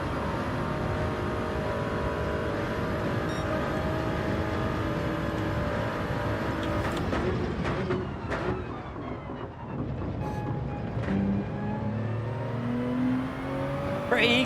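A race car engine in Gran Turismo 7, a Supra running against a BMW, drones steadily at high revs with gear shifts and pitch changes partway through, loud and continuous.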